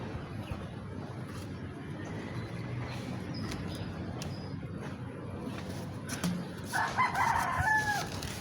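A rooster crows toward the end, fairly distinct over steady outdoor background noise.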